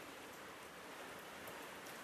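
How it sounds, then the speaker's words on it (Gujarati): Steady rain pours down in an even, hissing wash, faint and distant, with no voices or other sounds breaking through. "અત્યારે મસ્ત એવો વરસાદ આવે છે"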